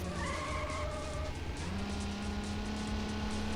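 A Mazda MX-5 set up for off-road driving races in Need for Speed: High Stakes, with a steady engine drone, tire skidding and squealing, and a rising engine note, loud and continuous with no talk.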